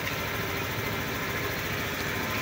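A Samurai 155 motorcycle engine idles quietly and evenly after repair, a steady low hum with a faint rhythmic pulse, close by and alone.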